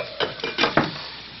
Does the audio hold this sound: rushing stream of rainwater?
no